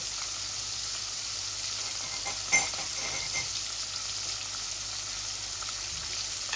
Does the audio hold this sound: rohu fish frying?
yes